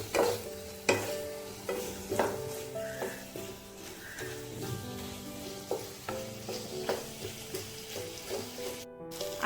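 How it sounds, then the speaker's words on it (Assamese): Potato chunks with spices and meat frying in a pot for chicken pulau, a constant sizzle broken by repeated clanking strokes of a stirring spoon, close and without talk. "আৰু আলু আৰু মছলা মাংসৰ সৈতে এইখিনি ভালদৰে ভাজি ল'লোঁ।"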